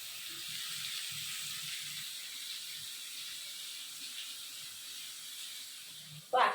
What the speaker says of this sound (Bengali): দেখো চিংড়ি মাছ ভাজা হচ্ছে